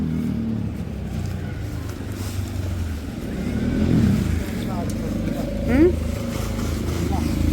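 A tractor engine runs on a farm as a low, steady rumble, moderately close, with people talking over it throughout.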